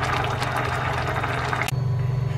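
Bubbling, churning water boiling steadily in a pot with duck in it, loud and close, then cutting to a quieter hum near the end.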